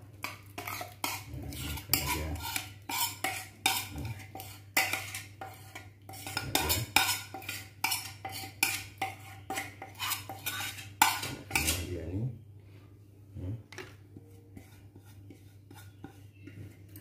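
A spoon scrapes and clanks steadily against a pot while thick blended spice paste is stirred, a constant low hum underneath and no talking.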